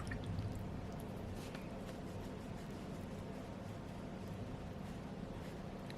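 A watercolor brush swished and rinsed in a jar of water, giving a steady, close, wet sloshing and dripping texture that runs unbroken for the whole stretch with no one talking.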